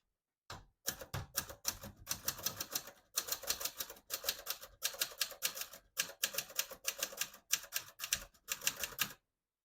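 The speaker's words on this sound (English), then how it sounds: "That's just what you deal with when you type on a typewriter." Rapid clattering keystrokes on a 1974 Adler Contessa portable typewriter, close and crisp, typed in quick bursts with brief pauses between groups of strikes.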